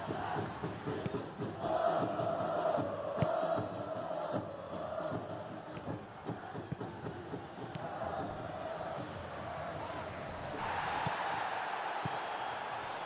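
A stadium crowd in the football video game PES 2021 roars and cheers in a broad, steady wash of noise, swelling in places and rising again near the end, with a commentator talking over it.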